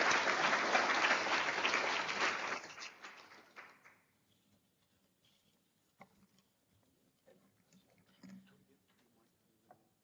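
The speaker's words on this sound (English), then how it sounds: "just a big hand of applause to kind of the panelists" Conference audience applauding panelists, a dense burst of clapping that fades out after a few seconds, followed by near silence with scattered faint knocks and rustles.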